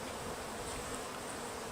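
Bees buzz densely and continuously inside a modified hive during installation, a close, steady swarm drone with no voices.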